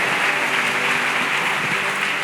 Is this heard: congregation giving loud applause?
yes